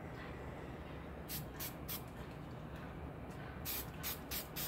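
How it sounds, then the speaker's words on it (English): Spray glue from an aerosol can is applied in short, light bursts, several brief hissing puffs in two clusters over a quiet background, faint and close. "you just hit the thing very lightly with the spray glue"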